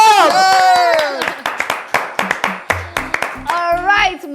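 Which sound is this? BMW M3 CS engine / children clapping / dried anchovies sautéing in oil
children clapping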